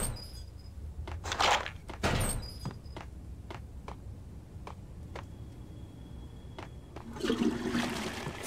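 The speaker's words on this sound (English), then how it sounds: "Flush the toilets, of course." A toilet flushes in the video game Max Payne, with a door thunk, a loud gushing flush and a trickle as the bowl refills, followed by a second rushing swell near the end; close and clear with no talk.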